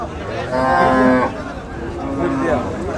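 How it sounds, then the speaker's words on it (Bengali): A Friesian bull at a cattle market gives two loud, drawn-out moos close by, the first longer than the second, over a steady murmur of the crowd. "ফ্রিজিয়ান জাতের গরু এটা অনেক বড় একটি সার গরু"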